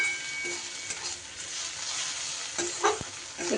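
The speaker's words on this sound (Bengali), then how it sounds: "একটু হলুদ আর লঙ্কাটা একটু তেলের সাথে নাড়াচাড়া করে নিয়ে" Turmeric and chili powder fry in hot oil while a spatula stirs them around the pan, a continuous loud sizzle broken by a few scraping stir strokes, with no one talking.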